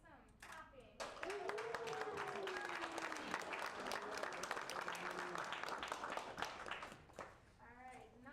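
Applause and clapping from an audience at a startup pitch meetup, a dense steady patter of many hands lasting several seconds after a brief voice at the start, with talk faintly mixed in near the end.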